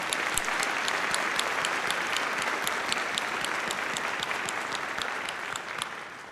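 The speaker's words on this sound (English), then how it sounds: "Please join me in a round of applause for all of our outstanding graduates." A large crowd at a graduate school commencement gives sustained applause for the graduates. The clapping is dense, steady and fills the room, easing off a little toward the end, with no speech over it.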